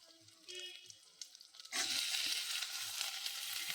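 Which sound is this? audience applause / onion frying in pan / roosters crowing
onion frying in pan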